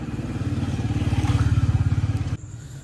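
A motorcycle passes close by at night, its engine throbbing in a rapid, steady pulse that grows louder then cuts off abruptly.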